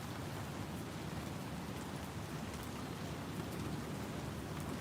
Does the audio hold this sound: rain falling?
yes